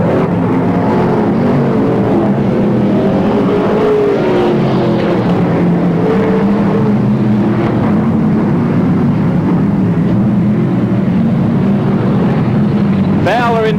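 Sprintcars race around a speedway track during the 1983/1984 PCR season, their engines a continuous loud roar that rises and falls as cars pass, with a commentator talking over the noise throughout.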